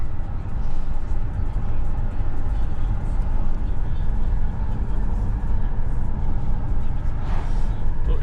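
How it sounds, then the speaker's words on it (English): A road train truck rumbles steadily past with a deep, continuous engine roar and road noise, loud and close throughout. "Oh, here comes a road train."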